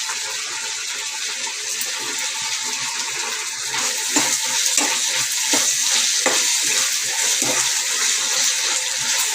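Potatoes frying with curry leaves and spice paste while being stirred in a pan: a steady, bright sizzle runs throughout, broken by close scraping and rustling stir strokes that grow slightly louder midway.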